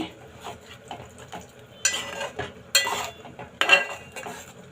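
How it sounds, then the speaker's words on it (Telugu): A spoon scrapes and clinks against a pot as tamarind juice and water are stirred into a prawn and egg curry, with several bright metallic strokes close by and a soft sizzle underneath. "ఒక్కసారి బాగా కలిపేసుకుని"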